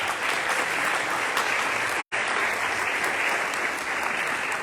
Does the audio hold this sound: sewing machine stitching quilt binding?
no